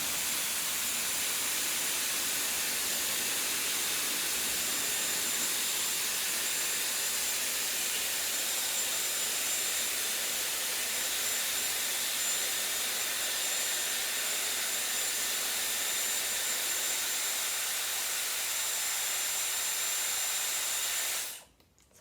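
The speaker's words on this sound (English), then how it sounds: "So I just did my little cold burst by holding up the power button there. It does a little cold shot of air" A Dyson Airwrap with a 30mm barrel blows a cold shot of air as a steady, loud, close airy hiss that runs unbroken for about twenty seconds before cutting off abruptly at the end.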